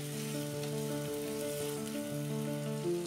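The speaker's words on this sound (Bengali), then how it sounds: "কষিয়ে নেবো ভালো করে" Spice paste with Kashmiri red chilli powder and a little water sautéing in a pan for a papad curry, a continuous soft sizzle with a faint steady hum, no voices.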